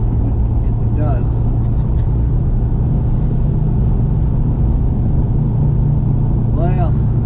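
A 1964 Dodge Polara 500 accelerating, giving a steady loud engine rumble heard from inside the car, with brief voices in the cabin near the start and end.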